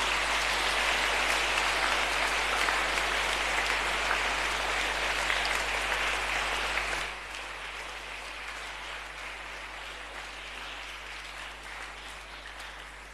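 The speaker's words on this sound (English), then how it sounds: "Dear students, our clap is a cheer." Students clap together at a school feast at St Peter's College, Negombo: dense, steady applause fills the first seven seconds, then drops abruptly to a much quieter, thinner patter that continues to the end.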